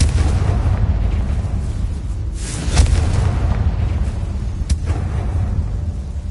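Confringo spell fired in Hogwarts Legacy, a sharp fiery blast going off over a dense rumbling game soundscape, with a second smaller burst a couple of seconds later.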